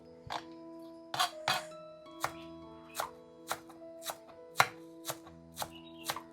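A knife finely chops onion on a board for veg Manchurian, about a dozen crisp, close strikes in a loose, uneven rhythm over a low steady hum.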